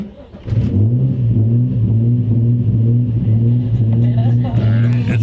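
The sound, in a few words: Nissan 350Z engine surging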